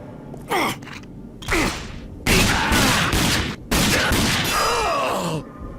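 Several bursts of rapid gunfire from the video game RAGE, loud and close, with groaning and gasping voices around them.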